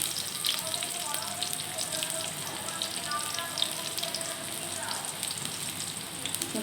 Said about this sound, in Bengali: এরপর আমি পেঁয়াজটা ভেজে নেব